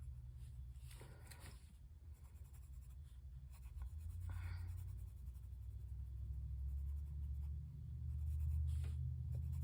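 A pencil shades dark brown shoes on a sketch with soft, steady scratchy strokes that come in short bursts, faint over a low background rumble.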